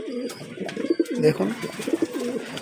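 A pair of teddy pigeons coo in repeated soft, throaty rolls close by, with a brief spoken word in between.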